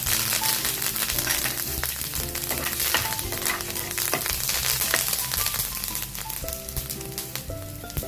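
Urad dal, asafoetida and curry leaves frying in hot oil for sambar, a dense crackling sizzle with frequent sharp pops and utensil stirring, close and steady, with no speech.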